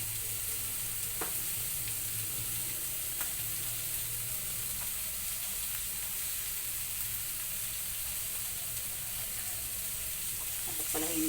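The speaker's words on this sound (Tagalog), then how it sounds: "Ang mga titigas na mga gulay unahin natin ilagay kasi pag isasabay pa natin yan mamaya" Hard vegetables for chop suey stir-frying in a pan, a steady, dense sizzle that runs unbroken throughout with faint clinks of stirring, and no voices.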